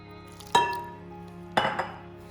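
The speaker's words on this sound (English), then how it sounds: "You just pour the water in and then you stir it around until it starts to knit together into a dough." Two sharp metallic clinks of a utensil against a bowl, each ringing briefly, as water is stirred into flour to bring together a flatbread dough; no talking.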